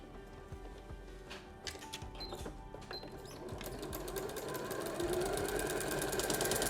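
Sewing machine stitching quilt seams over fusible quilter's grid interfacing, a close mechanical chatter of rapid, even needle strokes that speeds up and grows louder toward the end, with no speech.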